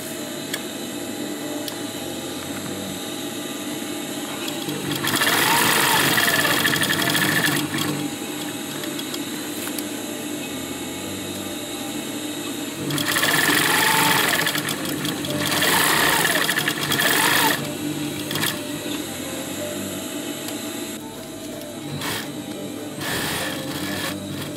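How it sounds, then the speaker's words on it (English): A sewing machine stitches two chest pouch pieces together in a rectangle, running in loud sustained whirring bursts with quieter pauses between them. No one speaks. "Just sew them 2 times in the rectangle shape,"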